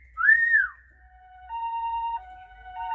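A siren effect played on a Casio keyboard: a single rising-and-falling electronic wail, then steady sustained two-tone notes that alternate like an ambulance siren, close and clear with no talking.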